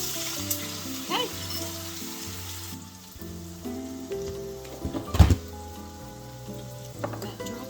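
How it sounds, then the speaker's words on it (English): Meat patties without a binder fry in a pan, giving a steady close sizzle with scattered pops and the scrape and clatter of handling, including one louder knock partway through. "Alright, just gonna fry these up."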